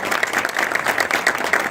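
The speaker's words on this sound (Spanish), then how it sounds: "Un aplauso, ¿no?" An audience at a criminology talk applauding, dense, steady clapping from many hands throughout, moderately loud and close, with no voices over it.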